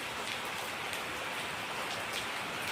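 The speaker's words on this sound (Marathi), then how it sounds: "तरी सुद्धा पाऊस थांबतच नाही." Steady rain hisses evenly on surfaces, a constant soft wash of drops with no voices.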